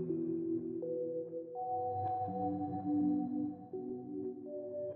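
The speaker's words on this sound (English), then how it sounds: "I pretty much see nobody using this reverse sound in the Celesta section" A low synth playing a reversed celesta sound pitched down one octave: slow sustained notes that swell in rather than strike, layered chords shifting gently over several seconds.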